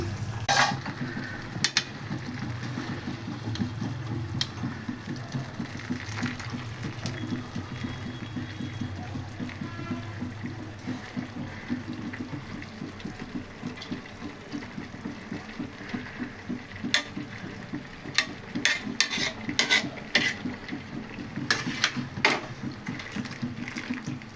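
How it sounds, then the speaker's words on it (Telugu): A pot of water with a little lemon juice at a steady rolling boil as rice is tipped in, giving continuous close bubbling and churning with occasional sharper splashes and clinks, with no talking. "మంచిగా మరుగుతుంది ఇక బియ్యం వేసేద్దాం"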